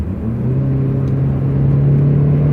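A small Ford car accelerates hard, with a loud, steady engine drone that rises gradually in pitch as the revs climb, heard from inside the vehicle with no talking.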